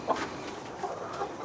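Backyard chickens cluck softly in their coop, a few scattered low clucks over a dull outdoor background, fairly quiet and with no talking.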